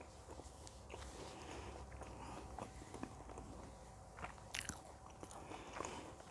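Pizza Hut pizza is bitten and chewed up close, with soft crunchy bites and wet mastication sounds in a quiet room, a few sharper crisp bites standing out near the end.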